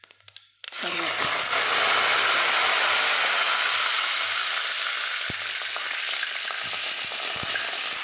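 Curry leaves, cumin and fennel seeds hitting hot oil after mustard seeds, a sudden loud crackling sizzle that bursts in after a quiet second and stays dense and close to the end, with occasional stirring taps.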